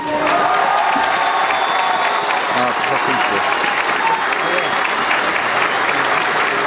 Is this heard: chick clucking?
no